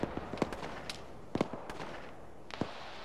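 Scattered gunfire from a fire team engaging a BRDM in the video game Arma: sharp, fairly quiet shots at irregular intervals, some doubled, with short pauses between them.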